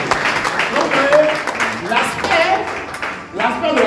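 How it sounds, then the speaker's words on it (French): Sustained applause and cheering from a congregation filling a hall during a church gathering, a dense, steady wash of clapping mixed with many raised voices, continuous for several seconds with a brief dip near the end. "Ce sont des acclamations nourries."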